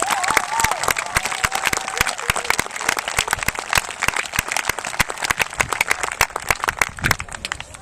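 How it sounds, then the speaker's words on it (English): A modest crowd at an outdoor construction groundbreaking ceremony claps in distinct, sharp, uneven hand claps for several seconds, with a few faint voices underneath. "Let's give them a nice round of applause."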